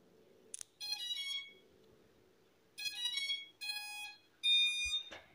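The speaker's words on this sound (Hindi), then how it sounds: "अभी आपको ड्रोन की बीप की आवाज़ आएगी गाइस।" Several loud electronic beep sequences from a drone, an Arduino-built quadcopter with an 11.1 V 3S LiPo battery, powering up. Bursts of high tones come in separate groups over a quiet low hum.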